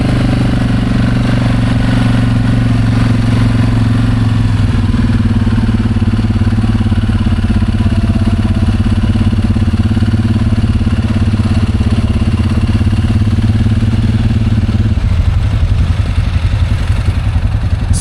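An old tractor engine chugs steadily and loudly up close with a rhythmic, rough mechanical clatter, its pitch shifting slightly partway through and dropping near the end.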